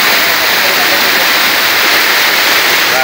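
A waterfall roars at a river spot, loud, dense and unbroken, a close rushing wash of water that fills the whole scene.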